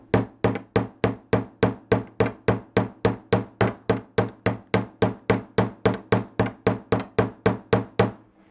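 A 3.5 ounce jewelry hammer strikes a wire tip on a steel bench block to flatten it, giving about two dozen sharp, evenly spaced metallic taps in a steady, quick rhythm.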